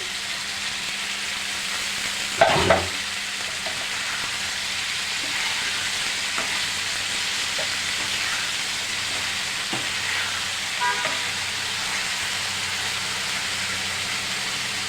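Thinly sliced potatoes sizzle in hot oil alongside small kachki fish, a steady close frying hiss throughout with occasional louder spatters and a spoon scraping the pan.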